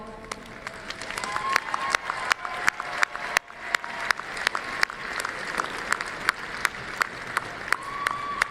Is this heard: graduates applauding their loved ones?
yes